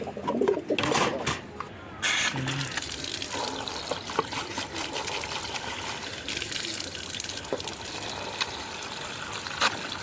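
Pigeons gathering at fresh water poured for them in a loft, steady low cooing and wing rustles after a brief splash of pouring water at the start, with a faint voice in the background.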